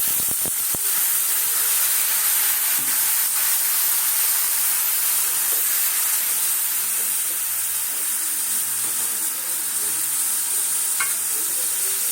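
Water hits a hot pan of vegetables for a vegetarian dish, producing a loud, steady sizzling hiss of steam that fills the whole stretch without a pause, close and unbroken.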